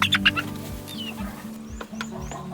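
Young chickens in a barn pen cluck and peep close by, a few soft overlapping calls over a low steady background hum.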